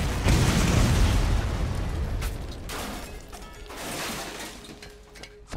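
A heavy booming explosion in the video game Borderlands, with a crackling rumble that decays, followed by smaller debris-like bursts and pops, fairly loud with no speech.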